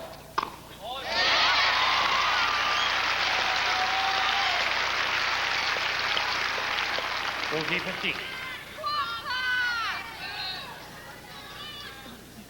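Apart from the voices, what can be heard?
tennis crowd applauding at Wimbledon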